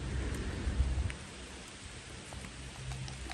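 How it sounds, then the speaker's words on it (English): Steady rain falls outdoors on a rainy morning, a soft, even hiss with low rumbling beneath and no voices. "And it's raining, big boy."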